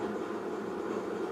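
A steady low mechanical whir of a wood stove fan running continuously, a smooth broadband hum with no breaks.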